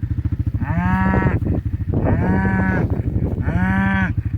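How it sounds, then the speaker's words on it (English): Cattle lying on a farm give three loud, drawn-out moos close by, each lasting about a second, with short pauses between them and no talk. "The cows are sitting over here munching."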